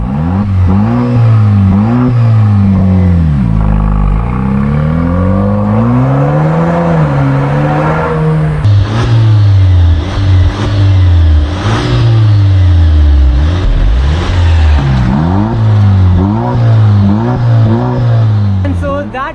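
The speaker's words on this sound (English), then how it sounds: "Once we get to a little bit of an open road, let's hear that exhaust." A Jeep Wrangler Rubicon engine revs repeatedly through a throaty Thunderbolt Valvetronic exhaust on an open road, rising and falling in pitch as it accelerates, loud and close, with tire and road noise.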